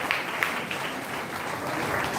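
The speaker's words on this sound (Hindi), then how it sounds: "आइए जोरदार तालियों से फिर एक बार परमेश्वर का धन्यवाद दें" A church congregation at a live Sunday service applauds in thanks to God, a moderately loud, even wash of clapping from many people, heard slightly distant and steady throughout.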